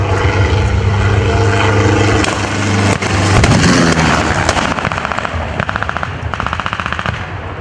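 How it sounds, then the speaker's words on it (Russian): Heavy artillery booms out loudly over a constant drone during a WWII battle reenactment, followed by rapid repeated bursts of gunfire continuing to the end. "Артиллеристы делают второй выстрел."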